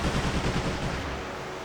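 Ship cannons and machine guns firing in a pirate naval battle in Like a Dragon: Pirate Yakuza, a dense, loud rumble of rapid overlapping blasts that eases slightly toward the end.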